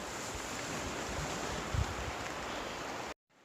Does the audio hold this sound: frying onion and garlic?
no